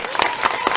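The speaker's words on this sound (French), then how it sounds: "Ces élèves ont réservé une salve d'applaudissements à l'équipe de cette association" Schoolchildren clapping for a visiting nonprofit team at a desk delivery in a Congolese village, a short burst of scattered hand claps at moderate distance over a busy crowd background.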